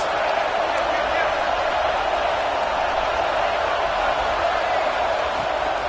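Stadium crowd roaring and cheering steadily in an NCAA football video game, a dense, continuous wash of noise on a big third down, holding at an even level throughout without letting up.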